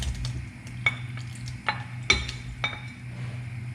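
Mushrooms stirred and mixed in a sizzling pan for an eggplant burger steak, a steady frying hiss with several sharp utensil clinks against the pan spaced through the stir.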